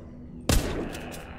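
A single loud gunshot from a firearm in The Walking Zombie 2, a sharp broadband crack that follows a quiet stretch and trails off into a lingering low rumble.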